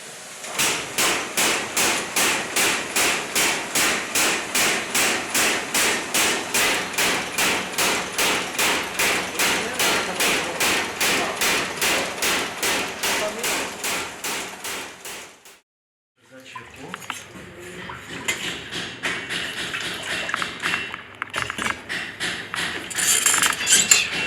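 Hammer blows shaping steel armour plate in an armourer's workshop, a long run of rapid, evenly spaced metallic strikes, then a brief pause before irregular clanking and tapping with lighter knocks.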